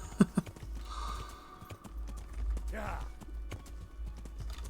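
Horse hooves clip-clopping in Kingdom Come: Deliverance as a rider heads down by a river toward a hillside, a few distinct hoof knocks early on, then a soft steady gait under quiet game ambience and a brief voice.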